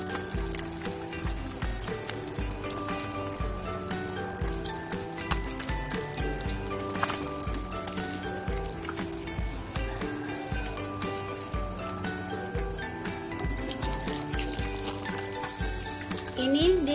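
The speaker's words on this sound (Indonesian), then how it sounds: "Ini digoreng dilanjut ya, ada 2 ekor lagi." Mujair tilapia fish fry in hot oil with a steady, loud, dense sizzle and crackle that continues without pause, close up.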